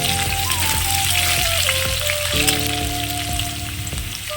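Carrots for a winter-vegetable khichdi sauté in hot oil in a pan, giving a continuous close sizzle with a few utensil knocks, under steady tonal background music.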